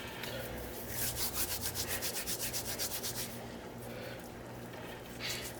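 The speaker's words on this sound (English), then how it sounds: "rub it between the palms of your hands to release the oils" Dried oregano rubbed between the palms over a dish being seasoned, a rhythmic dry rasping that pulses quickly for a couple of seconds, then fades into quieter brushing with a short final burst.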